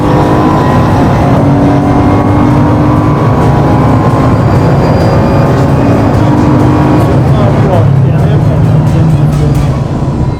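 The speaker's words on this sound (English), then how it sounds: "I needed to get a perfect corner exit and pin the throttle as early as I could" Race car engine held at full throttle out of a track corner, a loud continuous roar with rising harmonics throughout, droning steadily and close, with a brief shift in tone near the end.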